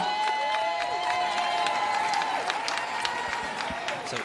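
A large arena crowd applauds and cheers the champions of an inaugural professional women's basketball championship title game. The crowd noise is sustained and moderately loud, with scattered cheers and whistles rising over it.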